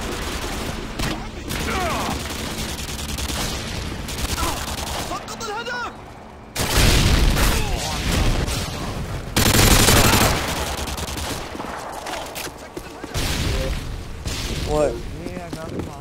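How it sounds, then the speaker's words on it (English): Rapid bursts of gunfire from the Counter-Strike map Nuke, loud and close, with several clusters of shots and sharper volleys around the middle, while players talk over the shooting. "Fucking noob shooting like crazy."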